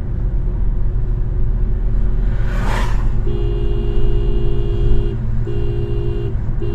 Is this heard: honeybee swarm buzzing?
no